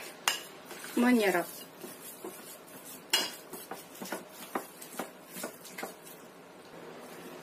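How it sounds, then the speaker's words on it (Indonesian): A spoon stirs a tofu mixture in a bowl, giving repeated light scraping clinks and taps at an irregular pace, close by, with someone speaking briefly. "Kita aduk lagi"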